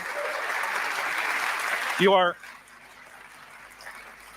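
Audience clapping at a televised debate, a steady wash of applause heard alone that cuts off abruptly partway through, followed by a quieter room.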